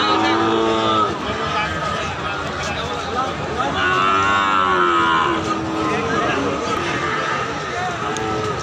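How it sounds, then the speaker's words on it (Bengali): Cattle at a market, including Shahiwal and Bahama breeds, give several drawn-out moos against a busy crowd with steady talking throughout. "এটাও গরু অনেক সুন্দর, ভালো মাপের কোয়ালিটির সম্পূর্ণ গরু।"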